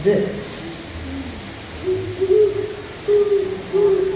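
A great horned owl at an outdoor bird show gives several deep, low hoots in the second half, close and fairly loud. A presenter's amplified voice briefly comes before them.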